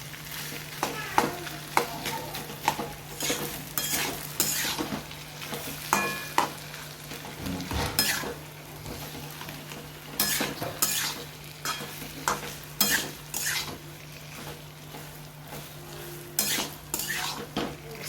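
Poha being stirred and fried in a hot pan, with repeated scraping and clinking of a utensil against metal over a steady sizzle, fairly close and moderately loud, with no talking.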